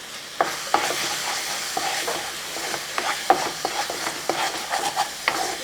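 Jackfruit being stirred with powdered jaggery in a pan for chakka varattu, with repeated scraping and knocking strokes of a spoon over a light sizzle, close and moderately loud with no voices.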